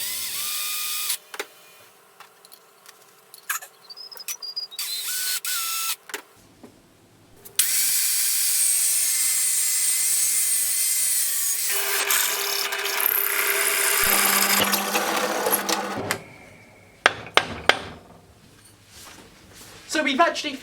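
Power tools drilling and cutting metal tubing parts for a homemade roller in a workshop, with intermittent mechanical bursts, a long steady loud cut, then scattered clatter and clanks, nearby and dry.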